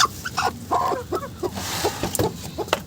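Desi chickens cluck in short, overlapping bursts on a farm near their coop, close and busy with brief squawky notes.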